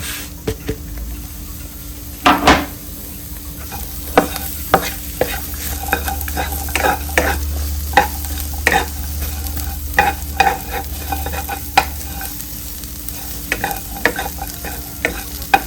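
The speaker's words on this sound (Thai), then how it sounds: "ต่อไปเราจะมาคั่ว หอมกระเทียม" Dry-roasting shallots and garlic in a pan: a steady dry sizzle with repeated scraping and stirring clicks, close and continuous, no voices.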